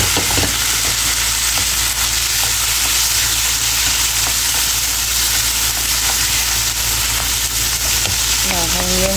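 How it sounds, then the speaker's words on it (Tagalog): Tomatoes go into a frying pan with a loud, continuous sizzle that stays dense and steady throughout, ending with a brief scrape or stir. "Ilagay na natin yung kamatis."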